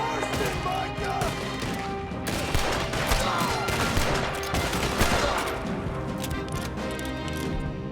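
Gunfire in Red Dead Redemption 2 crackles on and off over a steady game soundscape of music and ambience, with scattered sharp shots that sound moderately distant and fairly quiet.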